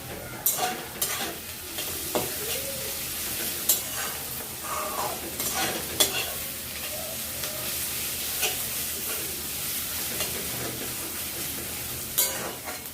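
Steady frying sizzle of onions browning in a pan, with repeated stirring scrapes and clinks, continuous and close, no talking.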